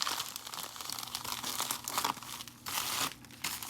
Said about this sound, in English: So I put this together, then I just fold it